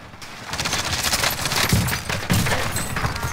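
Dense, rapid automatic gunfire in the video game Warzone, loud and sustained over a few seconds with overlapping bursts and heavy low thumps, no voices over it.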